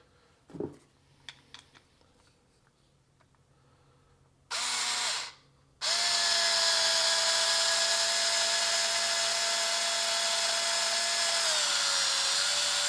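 A power drill drives angled screws, giving a short burst of whirring and then a long, loud, steady high whine that dips slightly in pitch near the end, after a few quiet taps.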